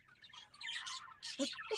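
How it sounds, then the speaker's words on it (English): Birds chirping at dusk, a busy chorus of high tweets and calls filling the whole stretch at moderate loudness, with a couple of lower, sharper calls near the end and no talk. "birds, y'all are so damn loud."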